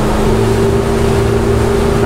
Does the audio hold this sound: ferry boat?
yes